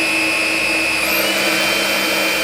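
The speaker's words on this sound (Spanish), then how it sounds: "El zumbido del motor es algo áspero." A Dreame U20 cordless vacuum cleaner runs with a steady, slightly rough motor hum and a high whine, continuous and close, cutting off abruptly at the end.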